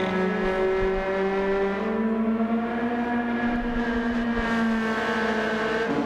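A Mini race car fitted with a swapped Honda Beat engine, driven in the video game Gran Turismo 7, holds a high, buzzing engine note that climbs and falls through gear changes, steady and alone with no voices.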